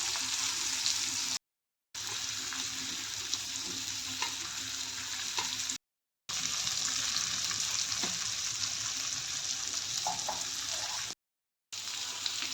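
Spiced fish fries in shallow oil in a pan, crisping with a continuous close sizzle and light crackle that cuts out briefly three times.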